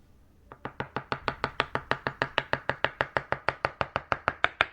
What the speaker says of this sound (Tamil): 1 கப் ஆஃப் மஷ்ரூம் வந்து நல்லா வாஷ் பண்ணி க்ளீன் பண்ணி எடுத்து கட் பண்ணிக்கிறேன்